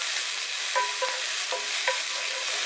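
Onions caramelize in a frying pan for veal burgers, a dense continuous sizzle with a few short scraping, ringing strokes of a utensil against the pan.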